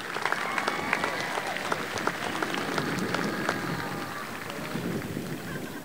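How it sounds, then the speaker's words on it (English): A graduation crowd applauds honored teachers, a continuous mid-distance clapping that holds evenly for several seconds with some faint crowd noise underneath. "Let's give them a big round of applause from the class of"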